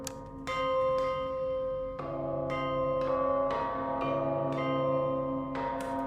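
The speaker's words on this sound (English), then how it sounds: "So does that bell chime come after the second medium hit?" Bell chimes in the video game Darq ring out as about eight clear, resonant strikes at uneven intervals, each tone lingering and overlapping the next, close and fairly loud.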